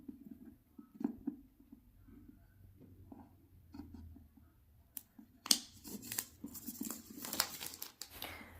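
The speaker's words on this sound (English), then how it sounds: "remove the cellophane, so I used my scissors to do that." Scissors snip and crinkle through cellophane wrapping on a parcel holding a small writing gadget. Soft, scattered cuts come first, then a louder run of crackling plastic, all close and without talk.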